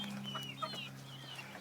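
Chicks being raised for 4H cluck and peep in short, soft bursts over a steady low hum, close and moderately quiet, with no speech.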